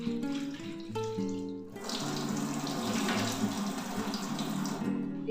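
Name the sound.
water running from a tap to soak ingredients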